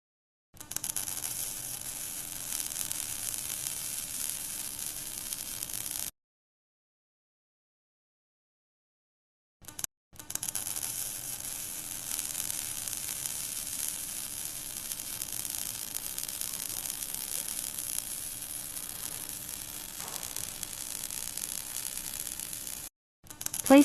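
Steady hissing sizzle with a low electrical hum from a welding gun laying a butt joint in a VR welding simulator, broken by a few seconds of silence and a brief gap near the end.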